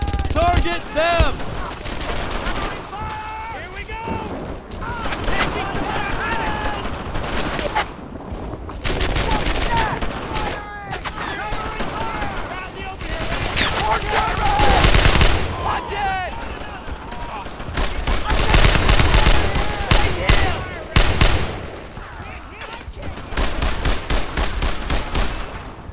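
Gunfire in the Brothers in Arms: Earned in Blood game, bursts of rifle and machine-gun fire mixed with distant shots running steadily throughout, under soldiers shouting orders.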